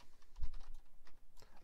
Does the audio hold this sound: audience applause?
no